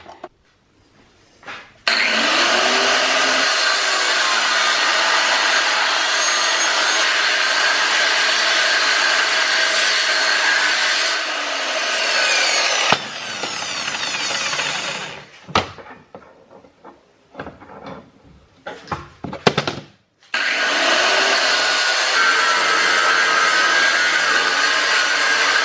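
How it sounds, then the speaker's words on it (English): Power tool cutting up a metal socket from a Mazda RX7 FD3S gearbox job, a loud sustained high whine for about ten seconds, then clanks and handling noises, then the cutting whine starts again. "Rightio, I've cut that socket up here."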